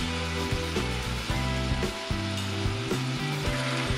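Scrambled eggs with tomato and onion frying in a pan, a steady close sizzle with soft stirring over rhythmic low tonal background sound.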